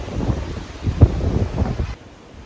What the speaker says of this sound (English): definitely a little bit windy down here at the beach